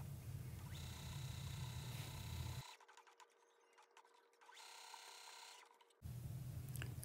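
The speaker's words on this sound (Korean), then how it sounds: "그러면 요 모양대로 3면을 박아줍니다." A sewing machine stitches three sides of a lining pocket on a plaid long coat. The motor hums steadily in close, even runs that break off briefly and then resume, with no talking.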